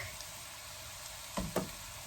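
Beef dendeng cooks in a pan on low heat with a gentle, steady sizzle, interrupted near the end by two quick knocks from a utensil.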